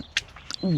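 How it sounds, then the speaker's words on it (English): A couple of brief, close quacks from two ducks, with a short voice-like sound at the end. "Ducks, 2 ducks."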